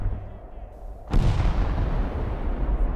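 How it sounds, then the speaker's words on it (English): In a video game war campaign, an artillery shell lands after a quiet moment, one sudden heavy blast that rolls into a long, rumbling tail of debris and low noise. "Artillery shells are falling all over the defense line"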